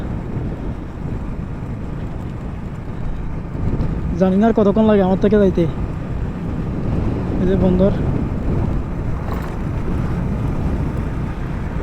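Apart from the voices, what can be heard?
strong wind while riding a motorbike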